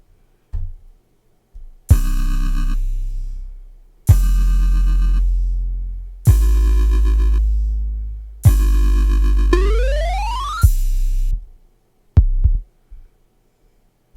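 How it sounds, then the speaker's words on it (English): An organ with an 8-bit preset plays an instrumental intro for a WWE theme: loud sustained buzzy chords with heavy bass, one a falling swoop, separated by brief gaps and ending in short stabs. "I did end up putting 8-bit preset onto the organ in the intro"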